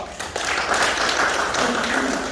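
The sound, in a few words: applause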